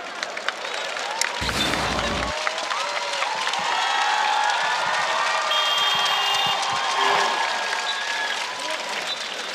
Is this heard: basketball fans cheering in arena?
yes